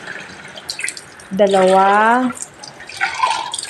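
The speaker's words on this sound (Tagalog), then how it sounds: "Tapos, lagyan ko ito ng tubig." Water poured into a pot on a home stove, a clear rising gurgle of filling liquid that lasts about a second amid light clatter and a brief spoken voice.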